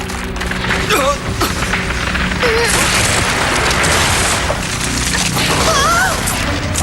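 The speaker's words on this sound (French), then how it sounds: "L'explosion doit avoir provoqué des fissures dans les fondations." Cracking foundations after an explosion in an animated show: a continuous loud crackling, splintering rumble with a few thuds, under scattered voices.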